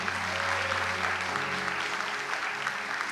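Sustained applause from a church congregation, steady and dense clapping filling the room for a few seconds with no pauses.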